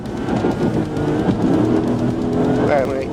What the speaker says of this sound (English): the driver, Rayleigh Ortiz, turned off the vehicle's lights and accelerated, fleeing the scene.